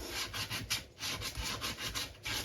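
Hand sanding softens the edges of a rustic wooden sign slab sliced off with a chainsaw, bark removed: close, steady back-and-forth rubbing strokes in a regular rhythm, with no talking.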